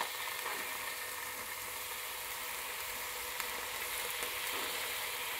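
Water boils in a Breville Thermal Pro non-stick electric frypan, producing a constant close sizzling bubble with faint irregular pops and no voices over it.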